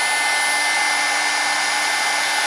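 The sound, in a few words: heat gun embossing powder on a card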